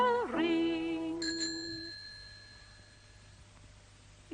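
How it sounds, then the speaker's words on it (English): A bicycle bell rings once with a clear metallic ting that rings out and slowly decays, following a short sung vocal note in a vintage children's programme. "You can hear his bell ring."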